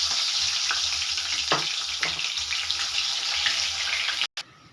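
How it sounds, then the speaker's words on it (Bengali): Small water lily flower fritters frying in hot white oil give off a steady, close, loud hiss and crackle that holds the whole time, with a few louder pops and a brief cut near the end; nobody speaks. "এবারে আমি ছোট্ট ছোট্ট বড়া শেপে দিয়ে আমি ভেজে নেব"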